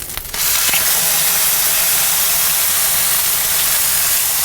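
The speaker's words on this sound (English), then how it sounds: "we're going to put these big old pork chops down" Big molasses-brined pork chops hitting a hot Kamado Joe grill, bursting into a loud, steady searing hiss right after a brief quieter moment, sustained and close.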